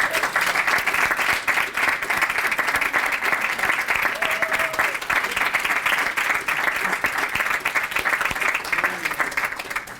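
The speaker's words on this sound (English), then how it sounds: "let's please have a round of applause for our future educators" A full audience claps for future educators at a high school signing ceremony, a loud, continuous round of applause lasting about ten seconds with faint background voices mixed in.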